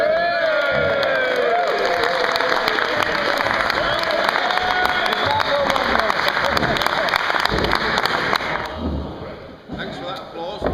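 An audience at a gentlemen's dinner claps and cheers loudly in a dense, sustained round of applause, with shouts and whistles mixed in, tapering off toward the end as a voice begins speaking.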